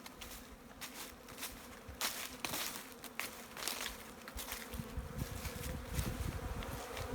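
Honey bees buzz low to the ground beside a row of hives in a rutted patch, a steady close drone with wind-like rustle and occasional louder passes near the microphone, no voices.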